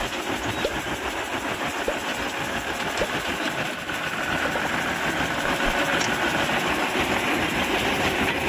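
A locomotive running along an overgrown sugar-mill lorry rail track, a continuous loud engine drone with rattling and rumbling throughout, steady and close, no voices.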